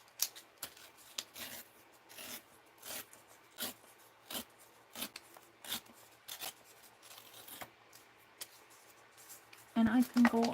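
Packing paper is torn into strips for paper signatures in short, crisp ripping bursts spaced a second or two apart, close and fairly quiet, with a voice near the end.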